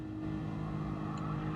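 Engine note of a car in the racing video game Gran Turismo Sport, a steady droning hum with strong low harmonics, held at constant loudness throughout, no voices.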